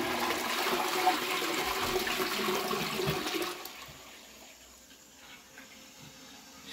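Toilet flushing in a house, a loud rushing gush of water that drops off after a few seconds into a quieter trickle of the tank refilling.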